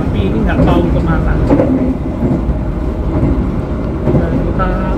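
Interior of the Kaligung passenger train in motion, a loud continuous rumble of wheels and carriage with steady rattling, and a person talking over the noise.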